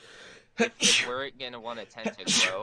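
A sudden sneeze bursts out during a live writers' panel show, followed at once by ongoing conversational speech.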